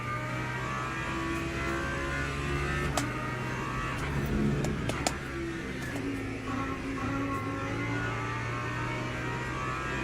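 LMP2 prototype race cars roar past in the Le Mans Ultimate racing game at Spa, engine drone and rising revs over a steady hum, with brief sharp clicks and a swell as they come through.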